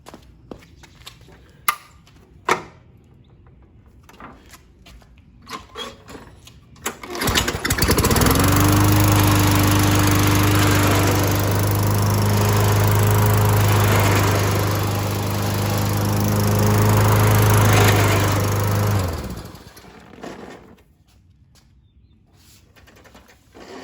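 A Toro snowblower's small engine starts up and runs loudly and steadily for about ten seconds with a droning hum after a front transmission swap, then cuts off, leaving quiet background ticks.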